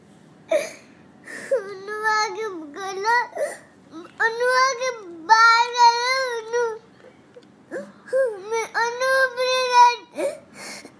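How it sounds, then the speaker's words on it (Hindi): A young child cries and wails in long, rising and falling bursts, loud and close, with short breaths between sobs. "आपका बच्चा रो रहा है।"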